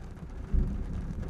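A low thunder rumble swells about halfway through, rolling beneath steady rain that continues throughout, on a volcano in Japan.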